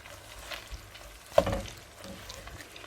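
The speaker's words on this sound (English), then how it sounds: "So first I've got oil, then I'm going to add in some onions." Onion fries in oil for a Ghana-style corned beef jollof rice: a quiet, low sizzle with one soft thud of a utensil or pan midway, heard alone.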